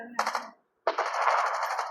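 Two bursts of rapid video game gunfire, a short volley, a brief silence, then a longer sustained stream of shots.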